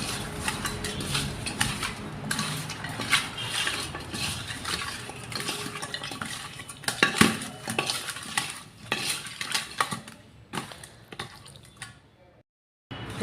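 Fish being mixed by hand with spices, coriander powder and salt: wet squelching and clinking handling sounds, irregular and close, with a brief silent gap near the end.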